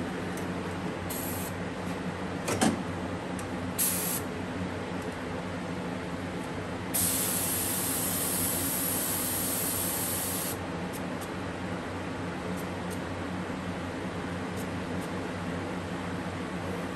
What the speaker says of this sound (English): Before I start to spray